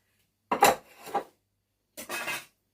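Excess set lemon ganache is scraped off the top of a cake in two short strokes, a close, gritty rasp of a few short scrapes separated by a brief pause.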